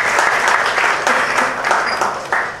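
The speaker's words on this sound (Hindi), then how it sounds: "जोरदार तालियां" A music launch audience at the Mr Kabaadi event applauds the music director, steady dense clapping from a crowd that swells in small waves and carries through without talk.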